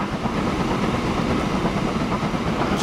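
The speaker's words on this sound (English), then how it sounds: "That is my new train." Southern freight train rolling along in a Transport Fever 2 railway simulation, a steady loud rumble and clatter of wagons with no pauses or voices throughout.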